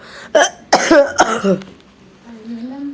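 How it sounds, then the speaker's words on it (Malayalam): Three or four harsh, close coughs in quick succession, followed by a faint hoarse voice trailing off. "ചുമയാണ്"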